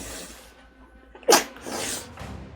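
A single sharp sneeze bursts out close by, brief and loud, with faint breathing and room noise on either side.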